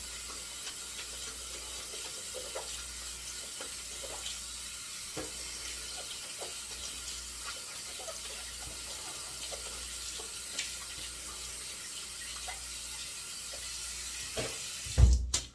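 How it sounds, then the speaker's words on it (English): A shaving brush rinsed under a running tap, a steady close hiss of flowing water with soft intermittent splashes and a brief louder knock near the end. "we're going to rinse out the brush really well"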